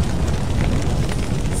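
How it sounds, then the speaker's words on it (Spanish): Roaring blaze and bursts of explosion in a burning warehouse inside a prison-set video game, a dense, steady rumble of flames with crackling, broadband and loud throughout. "Las llamas que arden en el almacén inundan todo el lugar con humo negro mezclado con chispas como una explosión"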